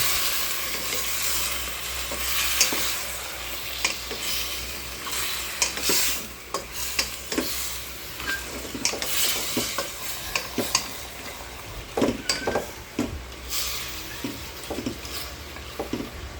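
Monggo langka pata, a dish of mung beans, jackfruit and pork leg, is stirred in a pot, giving a steady sizzle broken by repeated scraping clinks of the spoon against the metal, close and continuous.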